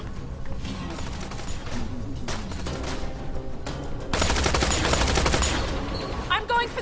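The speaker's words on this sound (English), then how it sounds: "Shots fired! Shots fired!" Gunfire from the video game Tales from the Borderlands, a dense, loud barrage of rapid shots that swells sharply midway and continues under game music and effects.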